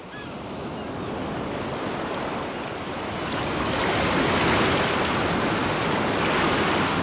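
Ocean waves wash continuously onto the shore, a broad rushing surf that swells louder midway through, with some wind noise mixed in and no voices.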